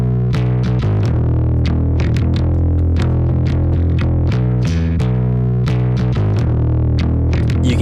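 Heavily distorted, compressed bass guitar plays root notes in a steady repeated rhythmic pattern, loud and dense throughout for a grunge or e-punk style track, with no voices.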